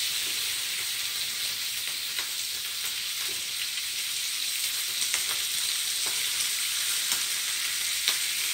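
Country gravy cooks in a frying pan with a steady, loud, broadband sizzle that runs unbroken throughout, with faint ticks and pops scattered on top.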